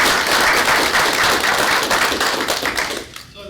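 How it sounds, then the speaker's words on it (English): Dense, loud applause from a crowd at a university board of governors meeting, sustained clapping that thins and fades in the final second. "I think they deserve a round of applause."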